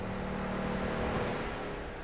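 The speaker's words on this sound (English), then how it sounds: "Tries to get that car fired back up." A street stock race car sits after a crash into the outside wall at New Hampshire Motor Speedway in iRacing, its engine running as a steady, fairly loud drone with a low hum that holds for about two seconds and carries no talk.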